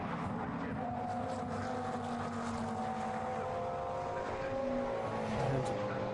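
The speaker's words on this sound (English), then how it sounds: "2 Lamborghinis side by side down towards Copse, and Hayek makes his way through" Two Lamborghini GT race cars running side by side toward Copse corner at Silverstone, a continuous engine roar with shifting pitch tones and a brief louder swell near the end as they pass.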